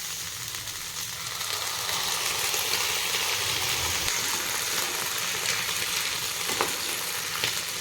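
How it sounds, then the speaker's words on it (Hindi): Jhudunga beans and potatoes sizzling steadily in oil with mustard masala as they are stirred, a close, continuous frying hiss with occasional scrapes and no talking. "भल से कषि दबा झुडंग आलू को"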